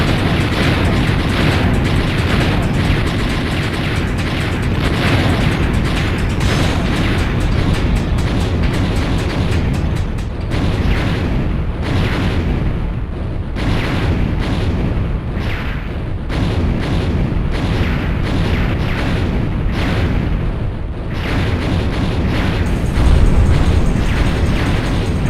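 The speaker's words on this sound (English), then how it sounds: "I can make the whole fucking base explode." An entire base blows up in the PS1 shooter Einhänder, a dense, continuous roar of game explosions and booming blasts that holds loud throughout, with a brief louder surge near the end.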